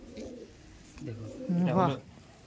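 Andhra pigeons coo in short low rounded bursts, with one louder, warbling call near the end over a faint background hum; a voice murmurs briefly in the background.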